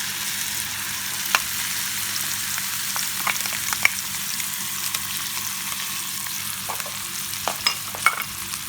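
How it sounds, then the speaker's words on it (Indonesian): Tortilla skins stir-fry in a pan with a steady sizzle, broken by sharp scraping clicks from a utensil stirring at irregular intervals, with no voices. "Aduk sebentar aja supaya agak matang sedikit."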